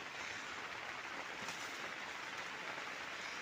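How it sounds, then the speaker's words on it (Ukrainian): Steady rain falls on a greenhouse farm in a dense, even hiss, with no voices, the patter continuous throughout. "Ох і дощ."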